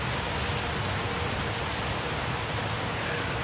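Steady rain pours down in a dense, even hiss across the whole stretch, loud and close with no breaks and no voices.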